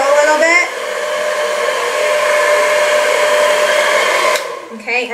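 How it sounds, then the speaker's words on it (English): A hair dryer on its cool-shot setting blows steadily at close range with a constant whirring hum, cutting off near the end before a brief restart. "that button that's supposed to be the cooling button on your blow dryer"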